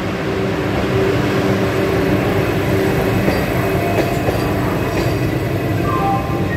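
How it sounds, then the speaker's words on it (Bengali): Howrah–New Jalpaiguri Vande Bharat Express pulling out on the adjacent track, heard from inside a coach as a loud, continuous rumble of rolling wheels and rail noise with light clatter. "পাশ দিয়ে হাওড়া নিউ জলপাইগুড়ি বন্দে ভারত ছেড়ে বেরোচ্ছে।"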